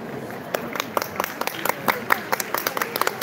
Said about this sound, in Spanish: Oigan cómo me aplauden todos